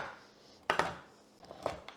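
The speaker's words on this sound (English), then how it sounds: "I have a good knife that I have specifically for chopping cacao butter and cacao paste" A knife chops through a block of cacao butter on a board in two sharp clusters of knocks, close and crisp against a quiet room.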